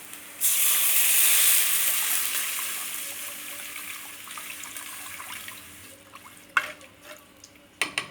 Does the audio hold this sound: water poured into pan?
yes